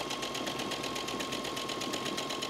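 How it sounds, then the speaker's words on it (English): A sewing machine runs a buttonhole stitch along the edge of an appliqué shape on a table runner. It gives a steady, close, rapid mechanical chatter with an even rhythm throughout. "just stitch your buttonhole right along the edge of your shape"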